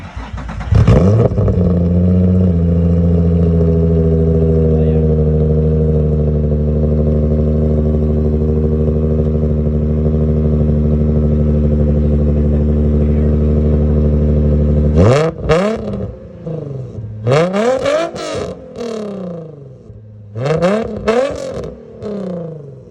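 A supercharged Nissan 350Z with an eBay exhaust settles into a loud, steady droning idle after starting, then barks through several sharp throttle blips near the end.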